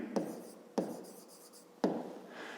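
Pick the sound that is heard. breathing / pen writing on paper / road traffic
pen writing on paper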